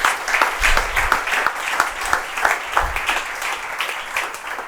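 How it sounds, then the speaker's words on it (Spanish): Congregation at a church discipleship class clapping together, a lively rhythmic burst of applause with audible individual claps, moderately loud and without talk. "Fuerte ese aplauso para nuestro Señor."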